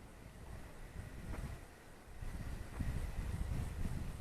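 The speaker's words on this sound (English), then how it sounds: "we're really pushing against some wind now" Steady, faint outdoor wind rushes and buffets across the microphone in broad gusts, swelling louder toward the end, with no voices over it.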